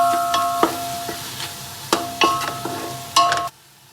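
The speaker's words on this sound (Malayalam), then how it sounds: "അതെന്താക്കാം, നമുക്ക് ഇതിലിട്ടിട്ട് നന്നായിട്ടൊന്ന് വഴറ്റിയെടുക്കാം" A tomato sautéing in a pan for a meat rice dish, with a soft sizzle under several sharp clinks of a spoon stirring against the metal, ending abruptly.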